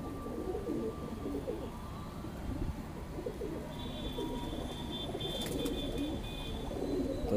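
Madrasi pigeons coo softly in a steady, moderately loud outdoor bed of background noise, with faint chirps and no speech over the calls.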